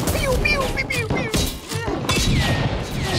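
Gunshots ring out in the FMV video game Mia and the Dragon Princess, a string of loud, sharp cracks and thuds mixed with voices talking over the action.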